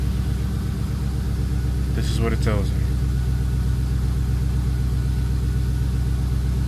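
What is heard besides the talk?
rebuilt Chrysler 300 Redeye engine running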